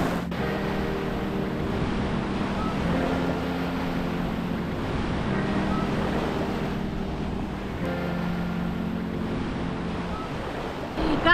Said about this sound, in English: The sea is like this because there is a storm.